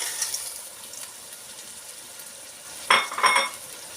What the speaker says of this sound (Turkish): Güzel kavuralım yine.